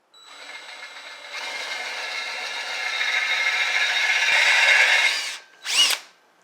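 A power drill fitted with a 5/16 drill bit bores steel scrap in a fab shop, one steady whining, rattling run of about five seconds that builds slightly in loudness, then stops, followed by a short separate burst of noise.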